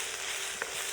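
Chicken fried rice with bok choy and choy sum being mixed through in a hot pan, a continuous close sizzle with a brief scrape of a utensil partway, no voices.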